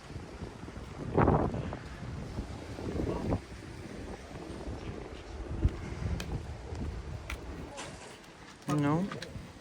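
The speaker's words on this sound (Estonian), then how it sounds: "Jah, ikka korralik tuul on." Strong wind buffets the microphone outdoors on Tenerife, a continuous gusty roar with louder bursts, while people talk over it.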